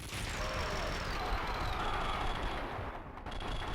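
Sustained gunfire from a shootout in the video game Max Payne 2, loud and dense throughout, layered with crashes and game effects that fill the whole stretch without a pause.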